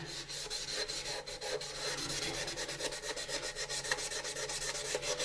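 A plastic AMT U.S.S. Enterprise model kit part is wet-sanded with 800-grit sandpaper and dish soap, giving close, rhythmic back-and-forth rasping strokes that repeat quickly and evenly with no voices.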